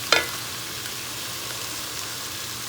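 Celery and parsley sautéing in a pan, a single sharp clack of a utensil at the start followed by a steady, even sizzle up close.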